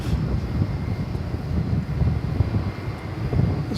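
An American Airlines jet takes off at night from DFW Airport, heard as a distant low rumble mixed with wind buffeting, steady and moderately quiet throughout.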